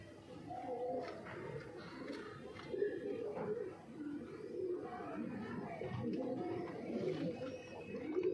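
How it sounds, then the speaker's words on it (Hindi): Pigeons, a pair of Punjabi Malwai birds, coo softly and steadily in a low rumbling murmur, with faint background noise throughout. "पहला जोड़ा लाखी कबूतरी है भाई"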